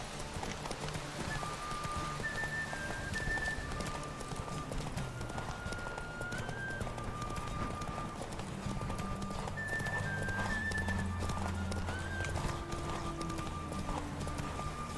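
Hooves clip-clop in a quick galloping rhythm as a horse runs in The Witcher 3, with occasional whinnies, and the steady hoofbeats sit under game music.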